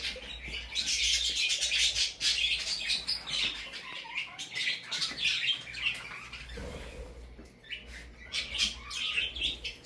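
Caged birds in a pet store chirp and tweet in a busy, continuous chorus of high, overlapping calls, with a few brief pauses and no talking.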